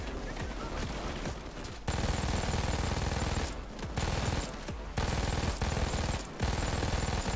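Sustained automatic gunfire from the video game Payday 2, dense rapid bursts that fill most of the stretch and break off in a few brief pauses between volleys.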